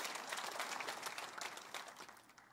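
Steady, dense applause from a church congregation during a sermon, sustained throughout without pause.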